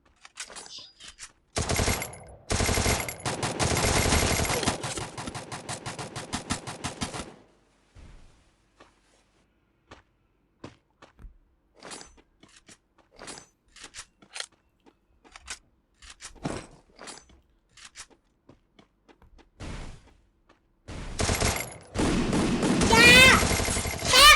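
Gunfire from a shotgun battle in the video game Bloodwing City, with dense bursts of loud shots at the start and again at the end, sparser scattered shots and clicks between.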